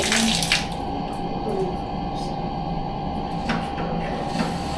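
A shower runs in a transient residence unit in Tagaytay, a steady hiss of spraying water, close and continuous, with faint clicks of the fixture being adjusted.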